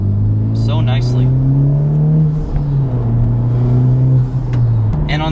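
A 2021 Honda Civic Type R with a turbocharged K20C1 engine accelerating from inside the cabin, a steady rising engine drone that dips briefly then climbs again, loud and continuous, with a voice talking over it.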